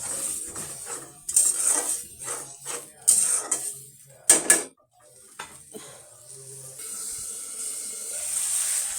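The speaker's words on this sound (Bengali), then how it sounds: "এবার আমি ভালো করে কষিয়ে নিব।" Spices stir-frying in a pan for an egg and potato curry, with repeated scraping and clanking of a utensil against the pan over a steady sizzle that continues after the stirring stops.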